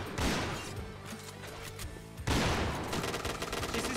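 Rapid bursts of gunfire from a competitive esports shooter match in an Azerbaijani pro league, with dense shots and impacts. A brief lull comes before a loud renewed volley that keeps going to the end.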